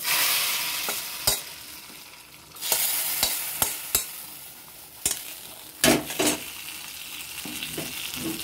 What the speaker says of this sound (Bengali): এবার আমি এটাকে খিচুড়ির মধ্যে দিয়ে দেবো।